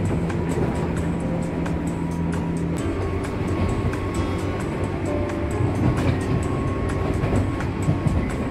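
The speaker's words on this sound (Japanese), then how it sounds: "令和の時代に、201系が駅を通過して高速運転しているなんて" A JR 201 series rapid train runs at speed through a station, a steady loud rumble of wheels and carriage noise with rhythmic rail clatter throughout, no voices.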